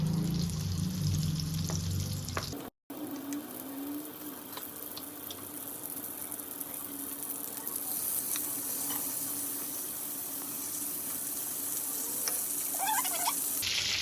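Paneer melts and sizzles in hot oil in a pan with a steady, bright crackling hiss. It drops out briefly near the start, then runs continuously at close range with no talking.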